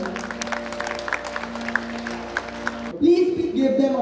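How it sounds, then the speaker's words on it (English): An audience at a school annual function claps briefly and fairly faintly under a speaker's voice over the PA, before the applause gives way to amplified talk. "Please give them a big round of applause."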